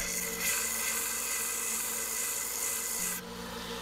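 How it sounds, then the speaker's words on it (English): Rasping and filing on the wooden handle of a kitchen chef knife as its edges are beveled toward a rounder shape, a steady close abrasive scrape with no talk that lightens near the end. "then I'll just kind of start beveling or chamfering all of the edges in an attempt to move this to a more round shape"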